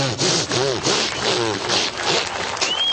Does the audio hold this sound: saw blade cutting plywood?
yes